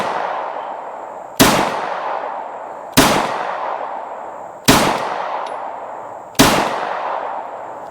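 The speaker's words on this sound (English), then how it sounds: "let's shoot 5 more rounds of 9mm out of our short-barreled dagger" Four evenly spaced 9mm shots from a compact Glock 19-size pistol, each a loud sharp crack followed by a ringing decay, heard up close about every one and a half seconds.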